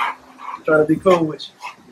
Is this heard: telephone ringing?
no